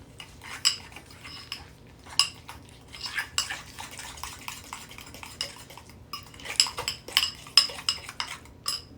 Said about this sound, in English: So I'm going to stir this all up.